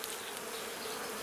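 A honeybee colony buzzes steadily during a routine hive inspection in early spring, the frames full of brood. The hum is continuous and fairly faint, with no voices.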